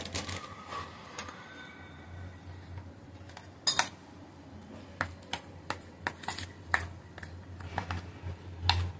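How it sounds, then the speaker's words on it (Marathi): A spoon clinks against a metal pot while a sweet dish mixture with saffron and chopped dry fruits is stirred, giving scattered sharp taps and scrapes over a low steady hum, with no talking. "आता हे सगळं मिक्स करूया."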